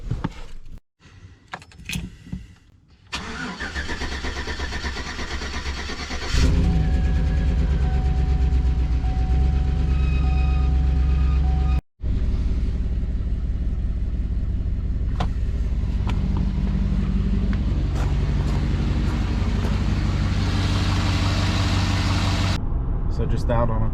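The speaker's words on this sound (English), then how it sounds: "So just out on a quick maiden voyage test drive, and so far so good." A GMC Sierra pickup truck out on its first test drive after being reassembled, its steady engine and road rumble continuous and close, with brief clicks and rattles early on and a short cut midway.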